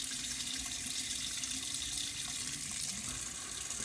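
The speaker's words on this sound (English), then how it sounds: "we're going to turn the water on and let it come up to a lukewarm temperature" Steady broadband rush of tap water running into a sink for hand washing, constant and close throughout with no voices.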